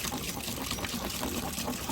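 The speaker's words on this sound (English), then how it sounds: "all I need to do is get enough water in there to dilute it a little bit" Water poured into a piranha solution to dilute it, a steady, fairly quiet splashing gush lasting the whole stretch with no talk over it.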